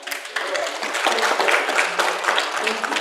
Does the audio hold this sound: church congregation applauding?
yes